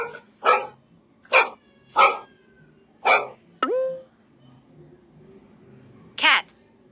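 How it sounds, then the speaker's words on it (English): A dog barks in a string of loud, close, sharp barks, about five in quick succession, followed by a short rising vocal call and one more bark after a pause. "Dog."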